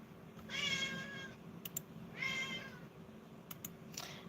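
A pet cat meows twice in long, drawn-out cries, fairly close, with a few faint clicks and taps between the calls over a low steady hum.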